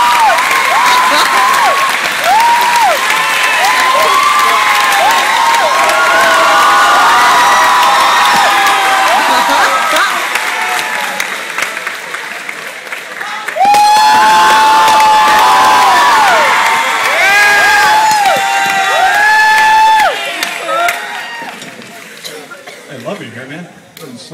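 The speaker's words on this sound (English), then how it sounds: "Big round of applause here, yes, sir?" An audience at a Project Grad 2010 event breaks into sustained applause mixed with cheers and whoops, loud throughout, with a brief dip before a fresh surge of clapping and shouting that tapers off at the end.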